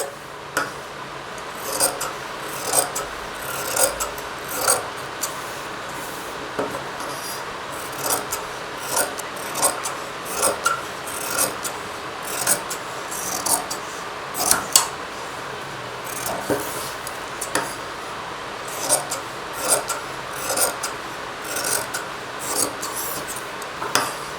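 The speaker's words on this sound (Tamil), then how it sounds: "ஸோ இது ரஃப்பாக தான் நான் கட் பண்ணிக்கிறேன்." Scissors cut roughly through blouse fabric for a cross-cut blouse, giving a steady run of close rasping snips and rubbing crunches at an even rhythm, with no talking.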